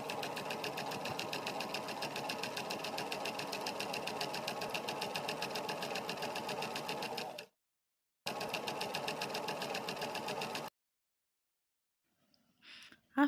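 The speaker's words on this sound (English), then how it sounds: "we are going to take it to our machine and sew round" Sewing machine stitching around the armhole of an Ankara waterfall jacket, a steady close whir of rapid needle strokes running for about seven seconds, a short pause, then a few more seconds of stitching before it stops.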